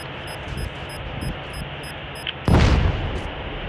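A bomb blast in a shooting video game, a sudden loud boom with a broad burst of noise that rolls off over about a second, following a stretch of steady background rumble and faint repeated game tones.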